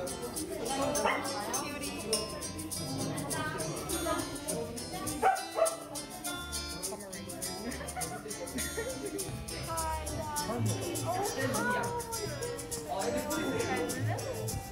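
Dogs bark and yip at a dog cafe in Seoul, repeated close barks over constant background chatter from people in the room.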